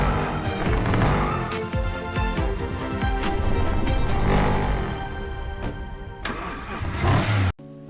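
A 2012 Mercedes-Benz SLS AMG GT engine revs loudly in the Racing Master video game, a dense, sustained roar that rises and falls for several seconds before cutting off abruptly near the end.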